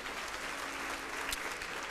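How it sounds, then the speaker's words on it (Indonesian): A church congregation claps together in steady, dense applause that fills the room evenly from start to finish, with no voices rising above it. "Beri tepuk tangan untuk Tuhan"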